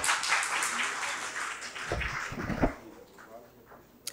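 Audience applause welcoming a professor to the stage at a medical college lecture, a burst of clapping from a crowd that fades out within a few seconds, with some indistinct voices.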